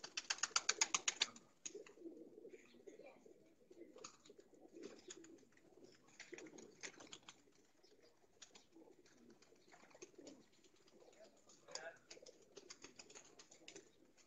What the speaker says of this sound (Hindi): बहुत ही जबरदस्त कबूतर है जी ये देखें।